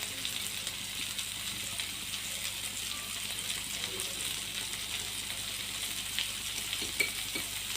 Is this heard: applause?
no